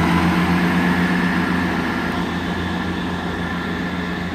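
ScotRail Class 158 unit 158740 departing Dalmeny station on the Fife Circle line, a steady loud rumble of engine and wheels that eases slightly as the train pulls away.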